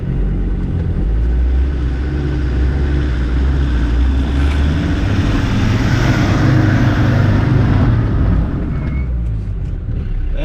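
An off-road vehicle engine roars steadily in third gear with wheel spin on a Norwegian overland trail, a loud, continuous low rumble mixed with churning tyre noise throughout.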